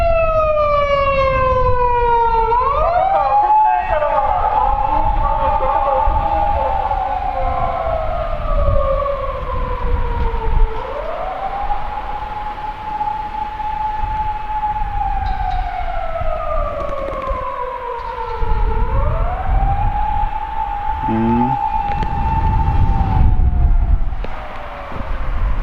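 Police and fire engine sirens wail loud and close, sweeping up and down in long slow cycles over rumbling street traffic, the tones overlapping as the vehicles approach.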